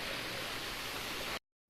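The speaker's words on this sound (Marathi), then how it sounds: "इथे आहे तो झरा जो असा आहे." A natural spring at Dhutpapeshwar temple in Rajapur flows with a loud, steady, close rushing hiss that cuts off abruptly.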